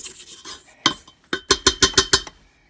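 A spatula scrapes down the side of a mixing bowl holding crumbly pie crust flour mixture: a few soft strokes, then a quick run of about six sharp, evenly spaced rasping scrapes, close and clear with no talking.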